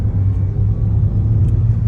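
A single car passes along a nearly empty street, a steady low engine rumble and tyre noise close by, continuous and alone without voices.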